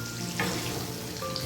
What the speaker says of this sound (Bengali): এই যে মাছটা আমি এখন ভাজছি